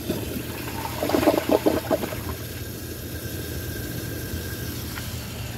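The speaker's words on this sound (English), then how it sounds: "I'm gonna give this a second flush." A Kohler Elmbrook toilet flushing a second time, with a burst of rushing, gurgling water that swells briefly, then settles into a steady, fainter refill hiss under room noise.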